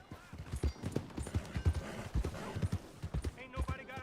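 Horse hooves clip-clopping in Red Dead Redemption 2, a rapid series of close, punchy beats as the horse arrives, with a brief whinny near the end and game dialogue over the top.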